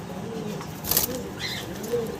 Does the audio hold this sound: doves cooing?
yes